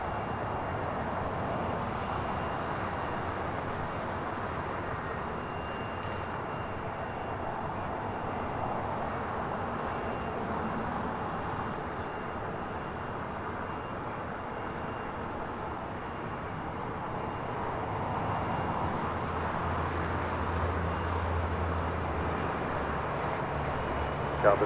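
An American Airlines A321 takes off at LAX, its engines a distant, faint, steady jet roar that swells slightly toward the end.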